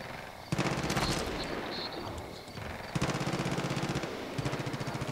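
Sustained automatic gunfire in the open-world shooter Far Cry 5, long rattling bursts of rapid shots with short pauses between them, loud and close throughout.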